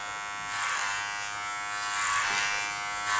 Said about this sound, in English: laying the comb flat and working the clipper over it